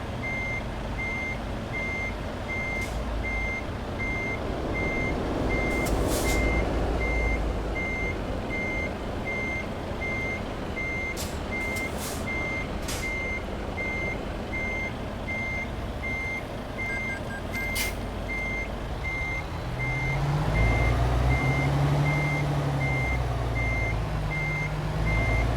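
Steady, evenly spaced reversing beeps sound from a lorry backing up in the Euro Truck Simulator 2 video game. They repeat through the whole stretch over a constant engine drone, with a brief hiss and a louder rumble near the end.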